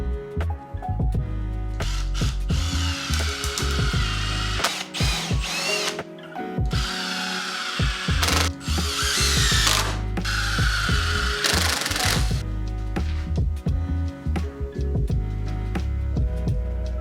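A power drill drives screws into wood while building a cedar-shingled firewood shed, with loud, close whirring bursts of varying length separated by short gaps throughout.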